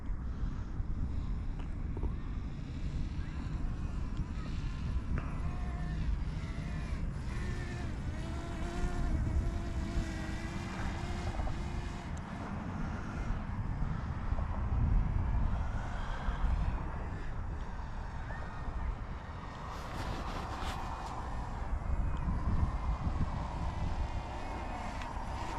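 A small Tizzy toy drone flies outdoors, its steady whining rotor hum running continuously at moderate level, mixed with wind buffeting on the microphone throughout.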